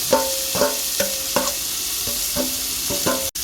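Mint and coriander leaves stirred into half-cooked onions frying in a biryani pot on a clay stove, with steady sizzling and a regular series of scraping stirs against the pot, no voices.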